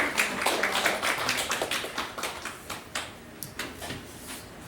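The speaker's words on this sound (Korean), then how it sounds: "박수로 환영하겠습니다." A church audience claps to welcome a professor speaking on mature marriage, a modest, close group whose clapping is loud at first and thins into sparser individual claps over several seconds.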